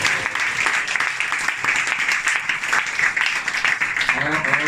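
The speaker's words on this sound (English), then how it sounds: "Give him a big round of applause" Applause for a guest speaker at a Hare Krishna temple gathering in London, steady clapping from an audience with voices talking over it.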